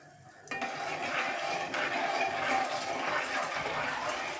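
Gram flour batter with water is stirred briskly in a pan for dosa, a steady wet swishing and slopping that starts abruptly and continues close and fairly loud.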